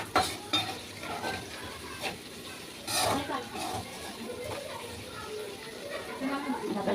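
Potatoes fry in a pan over a gas flame turned low, with a steady sizzle, scraping stirs and utensil clinks against the pan, while someone talks over the cooking.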